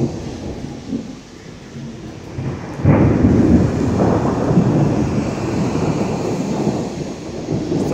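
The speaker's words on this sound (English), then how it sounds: "and now there's like a thunderstorm." Rain falls steadily while a deep roll of thunder breaks in, rumbling loudly and lingering through the rest of the storm.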